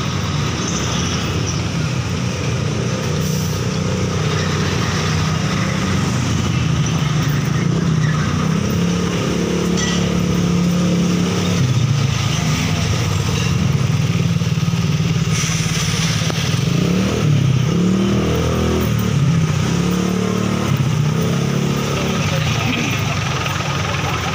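Road traffic at an intersection along Walter Dasma: a continuous rumble of motorcycles, cars and buses, engines idling and revving nearby, steady and loud throughout with brief voices mixed in.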